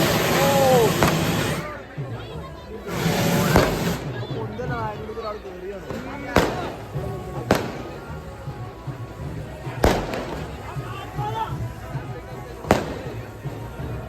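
Firecrackers burst at a village festival in Basavanapura, several loud single cracks spaced a second or two apart over steady crowd noise, with people talking nearby throughout.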